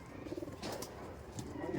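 A teddy pigeon, a high-flying breed kept in a loft and currently sitting on eggs, gives soft low cooing in short murmuring bursts close by, faint against a quiet background.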